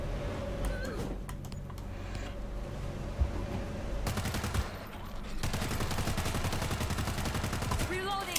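Gunfire rattles through a shooting game set in a World War Z zombie fight, with steady automatic bursts that run almost the whole time, loud and near, with a short break in the middle.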